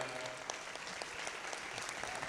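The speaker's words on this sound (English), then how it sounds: "a big round of applause to Chuck and Angela" An audience claps for a couple at an outdoor community gathering; applause is fairly faint and steady, with scattered individual claps throughout.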